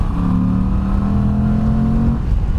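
A Moto Guzzi V85 TT motorcycle engine pulls steadily and evenly under acceleration, a continuous close drone with a gently rising tone and no speech.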